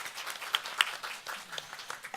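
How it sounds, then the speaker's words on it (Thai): Audience at a nursing palliative care lecture applauding to welcome a speaker, a soft, diffuse patter of clapping with a few sharper individual claps, fairly quiet and brief. "ขออนุญาตปรบมือต้อนรับอาจารย์ค่ะ"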